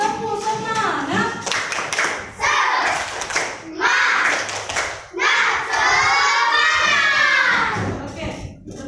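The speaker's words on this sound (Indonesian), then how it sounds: "mari kita sama-sama tepuk semangat dulu yuk" Schoolchildren in a classroom perform a rhythmic clapping chant together, with bursts of group claps between loud shouted, sung-out phrases from many young voices.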